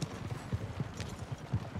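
Horse hooves clip-clop in a quick, even rhythm, fairly faint, with each footfall a soft, distinct knock and no talk.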